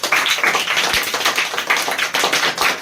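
A group claps together for themselves during a talk on stress and time management, a brief burst of fairly loud, uneven clapping with individual hand claps audible and no talking.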